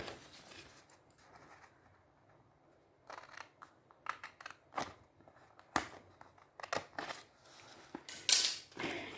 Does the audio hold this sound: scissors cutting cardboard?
yes